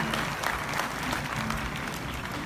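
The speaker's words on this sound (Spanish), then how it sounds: "Por favor, brindele un fuerte aplauso a Pepe Martínez." Audience applause at a mariachi festival, a dense steady clapping from a large crowd that fills the whole stretch without letting up.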